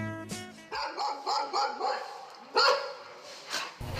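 A dog barks and yips in a quick series of short, fairly loud bursts, close by, with a brief whimper-like sound and some voices around it.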